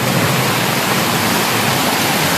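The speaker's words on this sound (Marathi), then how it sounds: "पाऊस बघा किती जोरदार लागतोय आणि पाणी सुद्धा मजबूत आलंय" A loud, unbroken roar of floodwater rushing through a stream channel mixed with pouring rain, close and steady like a torrent flowing hard.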